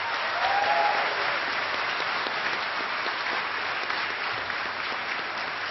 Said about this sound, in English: So one more round of applause for our panelists.